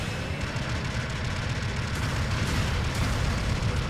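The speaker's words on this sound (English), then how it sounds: "Long range support fire incoming." Long-range artillery support fire rumbles as a dense, continuous wash of distant booms and blasts in the mecha battle game Mobile Suit Gundam Battle Operation 2, with no voices.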